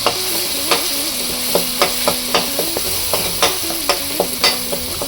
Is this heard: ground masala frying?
yes